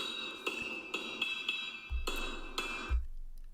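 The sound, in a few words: hammer striking in a played video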